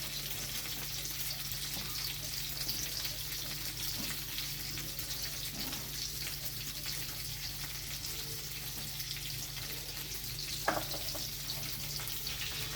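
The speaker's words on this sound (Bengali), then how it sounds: "তেলটা গরম হয়ে গেছে, আমি চিংড়ি মাছগুলো হালকা করে ভেজে নেব।" Shrimp frying lightly in hot oil in a home kitchen, a steady, moderately quiet sizzle that holds evenly throughout, with one brief clink partway through and no talking.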